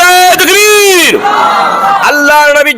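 A large religious gathering answers a preacher with loud, sustained group shouts of takbir, rising and falling voices that swell together and fill the space.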